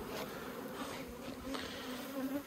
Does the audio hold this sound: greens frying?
no